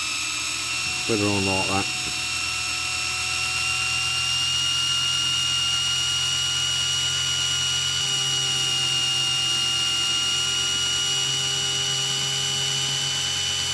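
A handheld rotary tool whines at a high, steady pitch with a constant drone throughout, working on a die-cast Dinky toy Atlas Copco compressor during restoration; a voice speaks briefly near the start.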